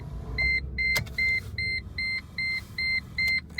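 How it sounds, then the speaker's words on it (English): A car being started, heard as a run of about eight regular electronic beeps or chimes, each roughly a quarter second long, with a low engine rumble underneath and no talking. "Let's turn on the car."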